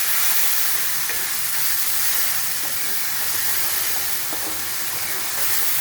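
Spice paste with ground cumin and a pinch of sugar sautéing in a pan, a continuous loud sizzle and hiss with soft stirring scrapes throughout, no talking.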